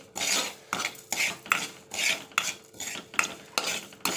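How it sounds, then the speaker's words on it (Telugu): Red chillies and spices frying in a pan are scraped and stirred in a quick, regular rhythm of rasping strokes about twice a second, close and dry-sounding with little sizzle. "ఇలా ఫ్రై చేసుకుంటుంటే మన కూరకారం చాలా మంచి స్మెల్ వస్తుంది"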